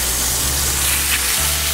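Pork cutlets sizzling loudly in a hot skillet, a dense continuous crackling hiss up close, with no talking.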